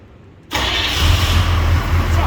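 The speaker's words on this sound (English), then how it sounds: "I want to hear the starter" A 6.2 diesel engine cranks briefly on its starter and then catches, settling into a loud, steady, rumbling idle close by.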